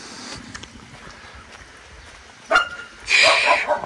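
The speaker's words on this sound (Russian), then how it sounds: "О, охранная собака там есть." A guard dog at a house in Crimea barks outdoors, first a sharp single bark and then a louder, longer burst of barking after a quiet stretch, fairly close.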